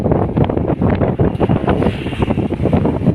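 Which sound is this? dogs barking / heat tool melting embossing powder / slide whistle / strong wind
strong wind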